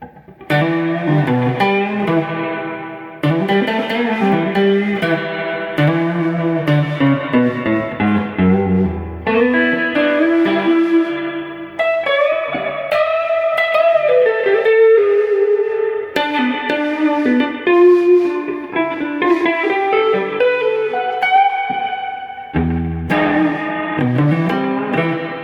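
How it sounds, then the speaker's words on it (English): A guitar played through an effects pedal with its spring reverb switched on gives chords and notes a washy, echoing tail, with distortion and chorus colouring the sound and brief pauses between phrases. "Turn the spring on."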